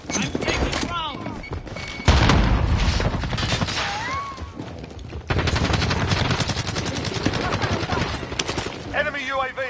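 Dense automatic gunfire in a Warzone quads match pours in close and loud, with bursts of incoming rounds, thumps and shattering debris overlapping a voice calling out over the firefight.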